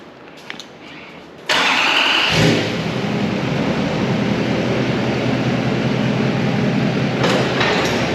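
A pickup truck fitted with a snow plow cranks over and fires, then settles into a loud, steady idle close by that holds to the end, with no talk.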